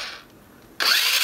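An electric motor in a Transformers Bumblebee RC toy car hums quietly, then jumps abruptly to a loud, high-pitched whine when turbo mode kicks in, close to the listener.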